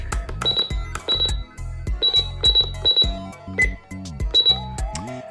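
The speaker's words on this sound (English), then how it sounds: "And then you have your error beep" A RadioShack 12-255 radio sounding its error beep alongside button beeps: a rapid series of short electronic chirps and tones in an irregular rhythm, close and clear, with no talking.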